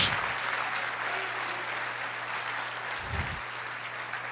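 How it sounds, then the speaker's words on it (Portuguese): Church congregation applauding during a sermon, a steady broadband wash of hands clapping that holds for the whole stretch, with a low hum underneath. "Aplauda o Senhor"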